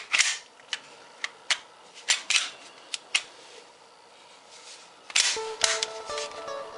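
Sliding the slide back onto a WE G18C airsoft gas blowback pistol produces a series of sharp plastic and metal clicks and snaps, close and fairly quiet, with a burst of rattling clicks near the end.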